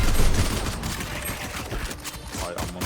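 Rapid bursts of gunfire in a Valorant ranked match, close and dense, cracking repeatedly over a few seconds with little talk.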